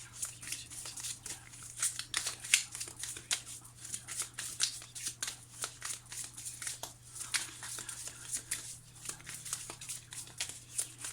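A deck of tarot cards is shuffled by hand in a quiet room, making rapid, crisp riffling and papery flicks in an uneven rhythm. The sound is soft and close, with no talking.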